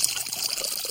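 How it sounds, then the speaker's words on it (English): Water pouring steadily into a large jar for an amphibian skin experiment, a continuous close splashing trickle with no talk. "Take a large jar, and you fill it almost to the top with water."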